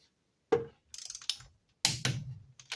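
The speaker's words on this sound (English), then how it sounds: "I'm going to set my torque wrench here on 50 foot-pounds. And we're going to go over these." A 1/4 inch torque wrench set to 50 foot-pounds clicks and ratchets while bolts are tightened on a Geo Metro three-cylinder engine: sharp, close mechanical clicks and short ratcheting bursts in a quiet shop.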